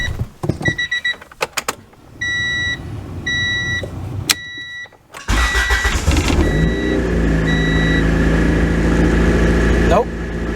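Honda Prelude engine cranking and catching after an exhaust repair, then idling steadily at close range, with dashboard chimes and beeps beforehand and brief talk near the start.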